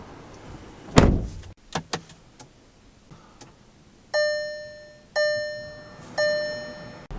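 Close thunk and latch clicks from a 2023 Volkswagen Atlas 2.0T door opening, followed by three evenly spaced electronic door-ajar chimes inside the cabin.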